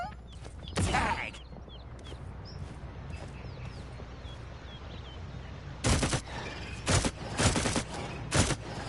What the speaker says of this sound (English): Talus's SMG cannot hit this far away.